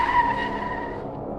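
A car skids and its tires squeal as it brakes hard to a stop after a front tire punctures, a loud scraping screech that fades over a second or so, with no voices.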